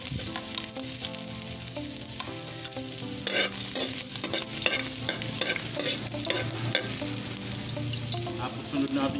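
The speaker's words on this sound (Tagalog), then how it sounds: "Mga boss, mainit na yung mantika. Magigisa na tayo. Unahin natin luya." Chopped ginger sizzles and sputters in hot cooking oil at the start of a Bicol goat kadingga, with steady frying crackle and stirring throughout, over a faint tonal background.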